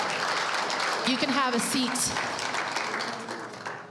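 A church congregation claps, a loud, dense round of applause that gradually tapers off, while a voice speaks briefly over it.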